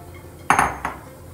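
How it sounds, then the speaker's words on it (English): A spoon clinks against a pot of Sindhi kadhi curry as it is stirred, two or three close metallic scrapes and knocks within a second, then quiet. "Give it a stir."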